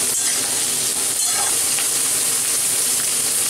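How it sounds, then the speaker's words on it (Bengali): Two chopped onions fry and get stirred in hot oil for mutton kosha, giving a loud, dense, continuous sizzle close to the mic with faint scraping underneath, and no voices. "আমি 2টো পেঁয়াজ তেলে একটু এটাকে নাড়াচাড়া করে নেবো 1-2 মিনিট।"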